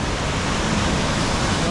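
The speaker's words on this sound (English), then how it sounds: "that's actually a carved out water valley, a water stream" Broadband rushing of a water stream running through a carved-out valley near Whakapapa Happy Valley on Ruapehu, steady and loud, filling the whole short moment without a break.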